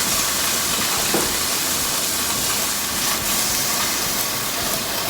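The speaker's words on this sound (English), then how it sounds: "It's simmering out beautifully. The tofu is browning just the way I wanted." Tofu sizzles and browns steadily in a pan with teriyaki marinade sugars, a continuous hissing crackle that is close and fairly loud and carries on without a break.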